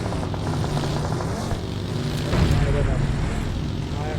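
Steady helicopter rotor drone throughout in the mobile game PUBG Mobile, with game sound effects and people talking over it.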